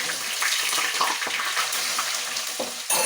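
Mustard seeds tempered in hot oil for a brinjal mezhukkupuratti, giving a steady close sizzle with light crackles and small pops throughout.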